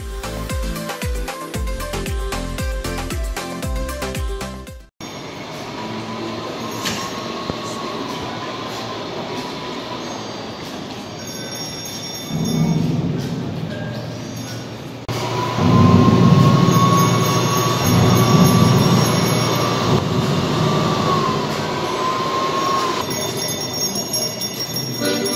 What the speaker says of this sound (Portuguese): Eu vejo esses trem mexendo sozinho e fazendo essa música.